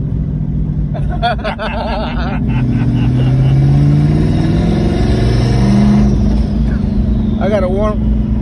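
A single-turbo Ford Coyote V8 Mustang idles loudly up close to warm its transmission, a steady deep rumble that swells slightly midway, with voices and laughter talking over it.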